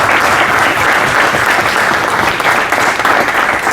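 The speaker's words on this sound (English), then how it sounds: "Please join me in welcoming him with a round of applause." Audience applause welcoming a panelist at a consulting conclave, a dense, steady round of clapping from a sizeable crowd, loud and sustained throughout with no speech.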